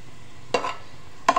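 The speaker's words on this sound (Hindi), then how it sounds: "अब हम प्याज को ऑयल में से अलग कर लेते हैं।" Fried onions being lifted out of hot oil while cooking masoor pulao, giving two short scraping, sizzling bursts about a second apart over a faint steady background, with no talking.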